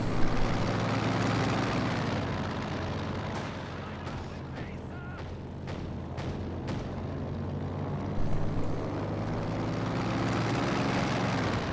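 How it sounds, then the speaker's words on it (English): A reconnaissance plane drones overhead in a World War II strategy video game, its engine hum buried in constant heavy rumble and scattered bursts of artillery and gunfire for the whole stretch. "I'm calling in the recon plane here."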